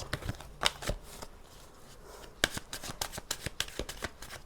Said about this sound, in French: on va aller tirer 9 cartes